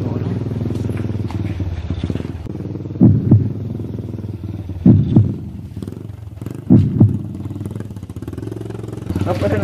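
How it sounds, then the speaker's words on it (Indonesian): A motorcycle with a loud aftermarket exhaust rumbles low and steady at night, with several throbbing revs swelling over the idle while people talk nearby. "Asa aya suara motor gandeng asup ka dieu"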